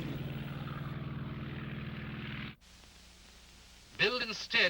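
An Allied de Havilland Mosquito intruder plane's propeller engines drone steadily and fairly loudly for about two and a half seconds, then cut out abruptly, followed by a quiet stretch and a short burst of a voice.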